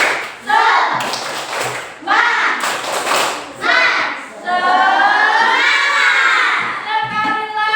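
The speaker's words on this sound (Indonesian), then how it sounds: "Yuk, tepuk semangat." Schoolchildren in a classroom perform the rhythmic 'tepuk semangat' clapping chant as an ice-breaker, with sharp bursts of group claps alternating with loud chanted voices, close and lively.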